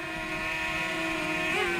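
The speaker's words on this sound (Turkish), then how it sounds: "Gayet stabil bir drone." Close, continuous propeller whine from a hovering DJI Mavic Mini drone, holding a steady pitch with a slight wobble near the end.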